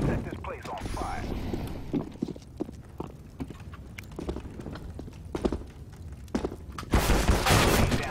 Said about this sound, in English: Throwing a frag down there.